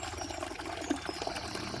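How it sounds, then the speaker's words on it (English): Water flowing freely from an outdoor supply in hot weather, a soft continuous trickling rush with a few small splashes, fairly quiet and near. "More free flowing. Much more water here."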